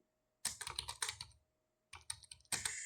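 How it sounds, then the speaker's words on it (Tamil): Someone types a prompt on a computer keyboard, with quick bursts of close, crisp key clicks separated by short pauses. "ஒரு சின்ன ப்ராம்ப்ட் டைப் பண்ணுறேன்."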